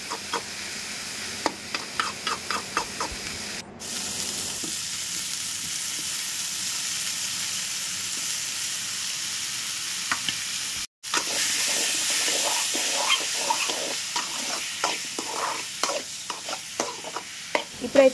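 Tomatoes cook with tella galijeru leaves in a pan for pickle, giving a steady frying sizzle broken by repeated scraping stirs of a spoon, with a short pause partway through and no speech.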